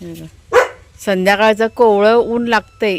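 A pet dog barks in the background at passers-by outside a home garden in the evening, with short yaps heard under a woman's close speech.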